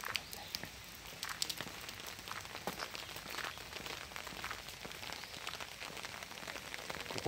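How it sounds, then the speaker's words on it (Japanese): Steady rain falls at Ganjō-ji, a Buddhist temple in Kai, with a dense, even hiss of drops on surfaces throughout and a few brief, sharper taps standing out from the wash. "雨になってしまったので、"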